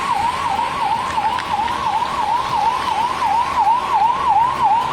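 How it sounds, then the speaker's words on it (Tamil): An ambulance siren wails in a steady, rapid up-and-down cycle on a flooded Santhome road in Chennai during heavy rain, loud and continuous, with faint traffic rumble beneath and no talk. "தற்பொழுது ஆம்புலன்ஸ் வாகனமானது தற்பொழுது இந்த பகுதியில் செல்லக்கூடிய ஒரு காட்சி இருக்கிறது."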